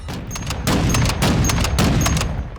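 Rapid bursts of rifle fire with a compensator in Call of Duty Modern Warfare II, three or four loud, close volleys of booming shots in quick succession with short gaps between them.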